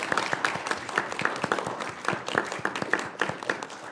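A council meeting audience applauds a city service team in a short, dense burst of many hands clapping together at moderate volume.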